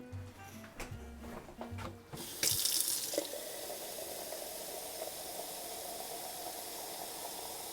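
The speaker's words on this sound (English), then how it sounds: "I'm going to add some water to that to dilute it a little bit" Tap water runs into a container of Southern sweet tea to dilute it, a steady close hiss of flowing water starting suddenly after a few soft clinks and continuing evenly to the end.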